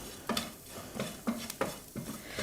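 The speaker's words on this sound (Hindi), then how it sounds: "और कसूरी मेथी को डाल के हमें अच्छे से भून लेना है।" Dal with kasuri methi being stirred and roasted in a pan, with a spoon scraping and clinking in quick irregular strokes over a soft sizzle, close and fairly quiet.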